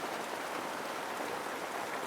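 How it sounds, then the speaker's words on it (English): Rain falls on leaves in the Malaysian jungle, a steady, close, even wash of patter with no talking and no break in the sound. "it started raining, unfortunately"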